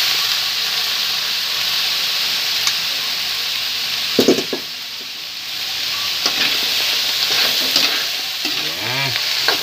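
Vegetables sizzle and fry loudly in a pan with crab stir-fry, a steady broadband hiss broken by a few stirring clatters and scrapes, close and continuous with no talk.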